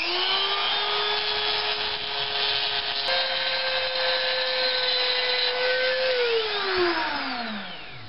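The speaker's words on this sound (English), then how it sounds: "I'm thinking a little bit of hard grinding, a little bit of sanding" A steady, high-pitched grinding whine of a Coleman fixed knife blade pressed against an abrasive belt runs throughout, then winds down as the machine slows near the end.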